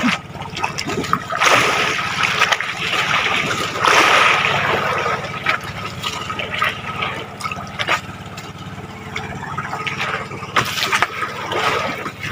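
Choppy ocean water with a strong current splashes and sloshes close by, a steady wash broken by irregular bursts of spray, with no talk heard.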